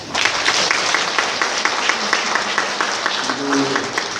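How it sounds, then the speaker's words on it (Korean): A church congregation gives welcoming applause during Mass, a steady wash of many hands clapping for several seconds, with a few voices murmuring underneath. "오늘 환영의 박수 부탁드립니다"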